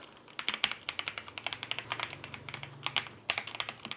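Rapid clicks and clacks from an RK M87 mechanical keyboard in uneven bursts, close and fairly soft, with a low hum underneath and no talking.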